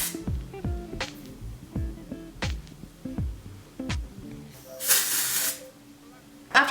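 Texturizing hair spray hisses in one sustained burst of a second or so near the end, loud and close, after several seconds of speech and handling noise.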